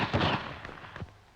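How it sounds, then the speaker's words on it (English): A starting pistol cracks at a 1950 British Empire Games sprint final in Auckland, with a sharp report followed by a few more quick pops, heard over archival crowd and film noise. "De Gruchy, Australia, beats the gun"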